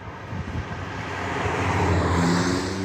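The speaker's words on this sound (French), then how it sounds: "C'est un peu la première voiture électrique qui fait un bruit de voiture thermique" An Abarth 500e electric car plays a simulated combustion-engine sound, a rising synthetic exhaust drone with clear harmonic tones that swell and grow louder over a few seconds, close and steady with no voices.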